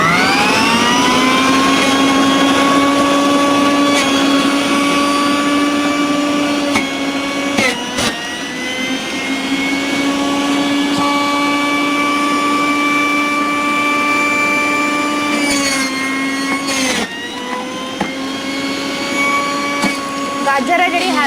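A juicer machine whirs loudly while making carrot juice at home, a steady high motor whine with strong tonal harmonics that briefly dips and strains twice as the carrots are pushed through.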